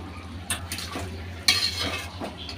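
Two slightly unripe tomatoes go into a cooking pot of shrimp and pui seeds and are stirred, with a few close clanking utensil strikes against the pot over a faint sizzle.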